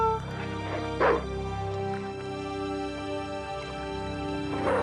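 Video game dog in Broken Sword: The Smoking Mirror barking and yipping a few times at moderate distance over a steady droning musical backdrop, with someone talking.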